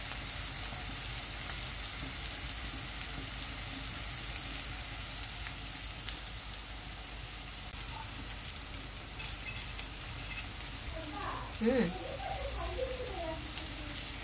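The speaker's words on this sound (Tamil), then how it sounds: "ஃப்ரை பண்ண போகிறேன் ஃபிஷ் எல்லாம்" Fish sizzling steadily as it fries in a pan for a Nagercoil-style fish curry, a continuous broadband hiss with a brief burst of louder crackling and spatter near the end; no talking.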